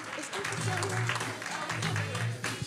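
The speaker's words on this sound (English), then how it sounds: "Clap it up one more time while she verifies it" At a Sunday morning worship service, the congregation claps briefly, with a voice talking and murmuring over the short burst of applause.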